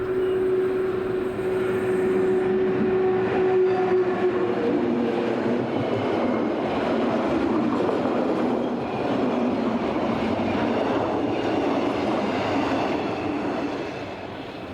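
Train number 649 on a European railway rolls into a station with a loud, sustained rumble and rattle, a steady high tone fading early on, and the noise easing slightly near the end.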